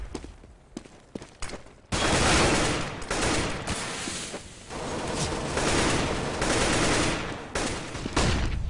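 Heavy gunfire and an explosive grenade blast ring out during a competitive ESL series match between team 10 and EYES ON U, sustained loud bursts of shots and booms following a few sparse clicks at the start.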